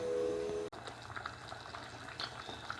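Sweet canjica, hominy cooking in a pot, boils with a faint, steady bubbling and soft popping, after a short tonal hum at the start, with no talk.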